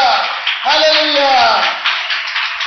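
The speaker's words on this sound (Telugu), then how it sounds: "గట్టిగా చప్పట్లు కొడదాం" A congregation at a Christian worship service claps loudly in a steady, dense wash, with singing voices carrying over the applause throughout.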